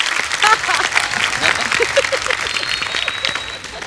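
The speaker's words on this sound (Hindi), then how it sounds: "जोरदार तालियां चिकू भाई दिल से।" A TV comedy show studio audience claps loudly and continuously, with some cheering and a faint voice mixed into the applause.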